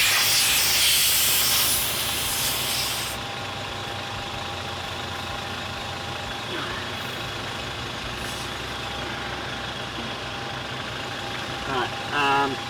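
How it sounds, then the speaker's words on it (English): An air compressor on an off-road vehicle hisses loudly at first, then cuts to a steady running hum that continues, with brief voices and a few knocks near the end. "get our compressor on it"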